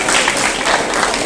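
A short burst of dense audience applause, loud and steady, filling the whole moment without a break.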